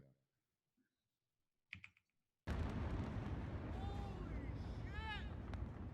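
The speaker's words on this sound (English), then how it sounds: "That's some heavy duty explosions going on there." Heavy explosions boom in a video game. A few faint knocks give way to a sudden, loud, continuous roar of blasts, with whistling tones rising and falling through the dense rumble.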